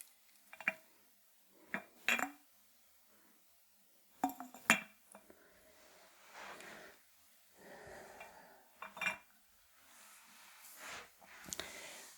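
Decorative lids being handled, tapped and clinked in a quiet room: sharp ceramic and glass clinks come in scattered bursts, close and crisp, separated by near silence and soft rustling.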